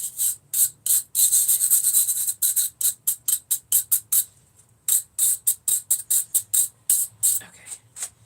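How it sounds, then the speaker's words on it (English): Wire brush scrubbing clogged wood shavings out of a Shinto rasp, a close, dry, rapid back-and-forth rasping in quick strokes, with a few short pauses between bursts. "time to wire brush the Shinto."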